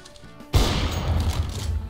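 Gunfire in the video game CS:GO bursts in suddenly after a quiet moment, a loud, dense rattle of shots that keeps going, with no voices over it.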